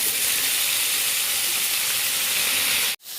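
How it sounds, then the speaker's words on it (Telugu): Cinnamon and cloves fry in hot oil with a loud, steady, close sizzling hiss that holds evenly, then cuts off sharply for a moment near the end before resuming. "చెక్క, లవంగం వేసుకొని కొంచెం వేగేదాకా ఉంచుకోవాలి"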